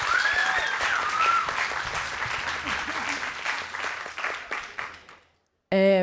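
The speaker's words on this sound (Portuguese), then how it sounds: "uma salva de palmas para Camila" Applause from the audience at a book fair as an author launching her book is welcomed, a loud crowd of clapping with a tonal sound over it that fades out, then brief speech at the end.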